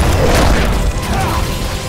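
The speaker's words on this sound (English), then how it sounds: "the NPCs blew up the rockets, I think" Rockets blow up in Final Fantasy XV, giving a loud, booming burst with crackling debris that spreads through the two seconds.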